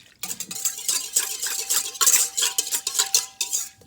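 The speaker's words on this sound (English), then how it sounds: "So I'm going to mix that up with my little whisk." A small whisk rattles and scrapes around a bowl as yeast is mixed into warm water, a quick rhythmic clatter of close, bright taps with no talking.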